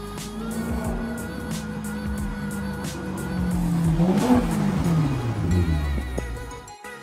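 A Maserati GranTurismo's engine hums steadily, then swells into a louder rev that peaks and falls away, heard from nearby with a faint squeal of tires.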